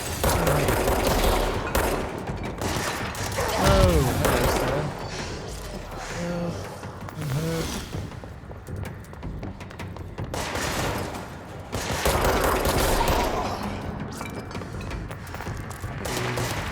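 Gunfire from a shotgun in the action video game Control, a dense run of repeated shots and booms over a busy game soundscape, loud and continuous throughout.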